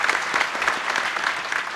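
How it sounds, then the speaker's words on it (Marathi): Audience at a Marathi kirtan applauds the village youths, dense sustained clapping from many hands filling the space steadily, loud and close with no voices over it. "एकदा यांच्यासाठी टाळ्या वाजवा तरुणांसाठी"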